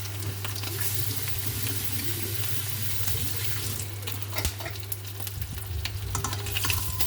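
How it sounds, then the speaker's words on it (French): Breaded pieces dipped in egg and rolled in breadcrumbs frying in hot oil, a dense continuous crackling sizzle with a low steady hum beneath and occasional louder pops, close by and with no voices. "Et je mets dans l'huile."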